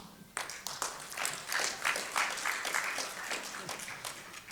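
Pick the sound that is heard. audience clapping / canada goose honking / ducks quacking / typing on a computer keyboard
audience clapping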